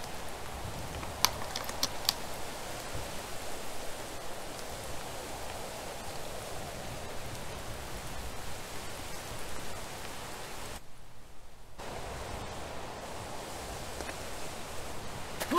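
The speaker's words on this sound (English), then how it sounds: "Enjoy the rain." Steady video-game rain falling over a camp, a soft, even hiss of drops with faint rustling, continuous and fairly quiet throughout, broken by a brief dip in sound.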